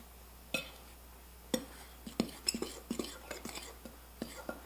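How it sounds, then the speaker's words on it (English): A utensil stirring and clinking against a mixing bowl as baking powder is worked into eggnog cookie dough, with irregular close taps and scrapes in a quiet room. "Get that baking powder all through the mixture."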